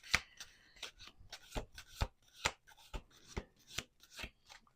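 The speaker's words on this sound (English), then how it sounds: "One more shuffle." A deck of tarot cards being shuffled by hand, a quick series of crisp riffling bursts repeating at a steady rhythm, close and moderately quiet with no talking.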